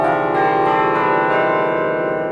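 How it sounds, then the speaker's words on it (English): A sequence of tuned bells rings out loud and continuous, playing a major scale one note after another, with dense ringing overtones sustained through the whole stretch and no voices. "A major scale doesn't really sound that great on bells."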